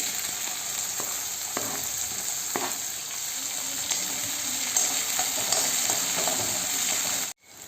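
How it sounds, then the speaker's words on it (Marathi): Garlic and chillies frying in hot oil with cumin for Marathi pithla, a constant close sizzle with occasional clinks and scrapes of stirring, ending in a brief cut to silence. "आता याच्यानंतर लसूण सोडा लाल तळायचं आता ही मिरची सोडली"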